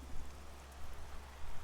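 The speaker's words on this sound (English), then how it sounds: "it is raining, because of course it is." Steady rain hiss in the futuristic cyberpunk setting of the racing game BallisticNG, a dense continuous wash with a low rumble beneath, even and unbroken throughout.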